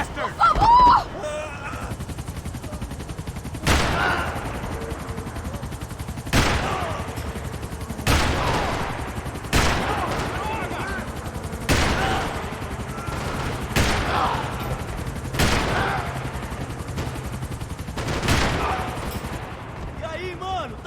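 Loud single gunshots in the Max Payne 3 video game on Xbox Series X crack out about every one to two seconds over a steady rumbling backdrop, with a brief voice near the start.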